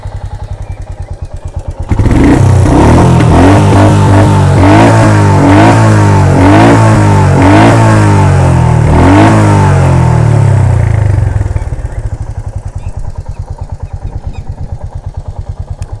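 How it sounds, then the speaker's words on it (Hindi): A Royal Enfield Meteor 350 Supernova motorcycle engine starts and is revved repeatedly, its exhaust rising and falling in several loud pulses, then drops back to a steady idle. "कुछ इस तरीके का एग्जॉस्ट नोट आपको इस बाइक का सुनने को मिल जाता है।"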